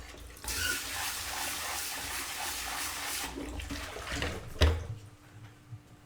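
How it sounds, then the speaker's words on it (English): A pot rinsed under a running kitchen tap, steady close splashing water that fades out, followed by a clunk and a few small knocks. "So I'm going to give this pot a quick rinse."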